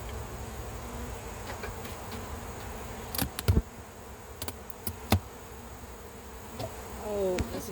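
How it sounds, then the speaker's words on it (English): Honey bees buzz around an open hive during a honey harvest, a low steady drone with several loud passes as individual bees fly close by, and a brief rising whine near the end. "Look at these bees."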